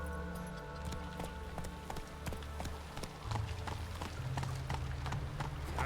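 Hoofbeats of a galloping horse in The Witcher 3 video game beat in a quick, even rhythm, fairly faint and steady, over a low game soundscape.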